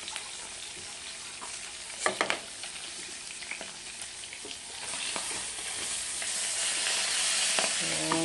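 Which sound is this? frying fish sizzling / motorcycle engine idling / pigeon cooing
frying fish sizzling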